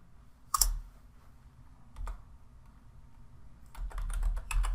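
Keys on a computer keyboard are tapped while a SQL statement is entered for a stored procedure, giving a few sparse clicks early on and then a quicker cluster of close, crisp keystrokes near the end, with no voices.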